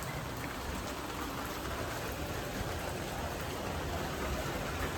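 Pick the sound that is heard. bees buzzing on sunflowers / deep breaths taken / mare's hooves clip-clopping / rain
rain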